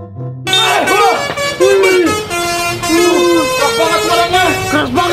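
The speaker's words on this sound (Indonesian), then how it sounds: "Nah, sekarang klakson coba." A new Vespa scooter's dual horn blares loudly and close, sounding in several long and short honks in a row, with people talking around it.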